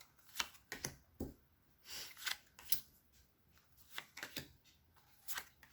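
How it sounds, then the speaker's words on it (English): Tarot cards being shuffled, a quiet, close series of crisp riffling and snapping bursts in an irregular rhythm, with no voices. "I'm going to pull 4 cards for this"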